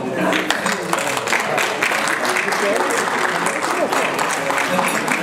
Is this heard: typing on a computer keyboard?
no